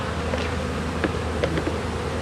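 Honey bees buzzing inside a hive in December, a dense continuous hum close to the microphone with a few louder individual bees passing by.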